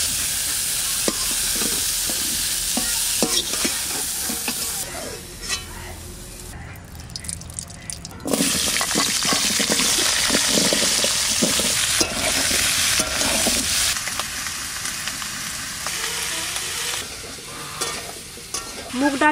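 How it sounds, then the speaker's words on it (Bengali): Mixed vegetables including potato and cauliflower lightly fried in mustard oil, a constant sizzle with spatula scraping and stirring, a short quieter break midway before frying resumes, some water sounds and faint talk. "হালকা ভেজে ভেজে নিচ্ছি সব"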